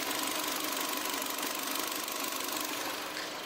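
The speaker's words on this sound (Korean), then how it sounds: "엔진 소음 먼저 들려드리면은" A Hyundai YF Sonata's 2.0-litre four-cylinder DOHC petrol engine idling in good condition, a quiet, even hum with a faint steady mechanical tick, heard close and alone.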